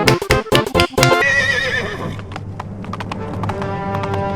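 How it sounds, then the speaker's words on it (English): Horse hooves clip-clop in a quick, close, loud burst of strikes from the animated film Shrek 2, followed by a whinny over a swelling orchestral score. "Those were delicious clopping sounds."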